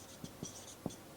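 Pen strokes on paper during a classroom English grammar lesson, three short soft scratches spaced apart, quiet and close.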